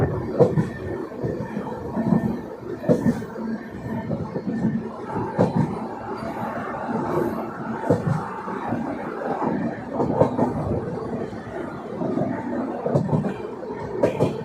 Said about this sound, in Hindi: भाई सामने वाराणसी नई दिल्ली वंदे भारत एक्सप्रेस के साथ क्रॉसिंग